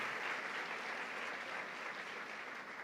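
A crowd at a Spanish-language Catholic religious gathering claps in steady, even applause that holds throughout without pause.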